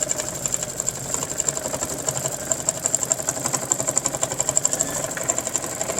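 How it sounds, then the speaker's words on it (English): A Solaris 2 sewing machine stitches out a built-in quilting design, its steady, rapid needle clatter running evenly throughout with a constant high whine over it and no talking. "it will just continue to stitch on and stitch the whole entire design."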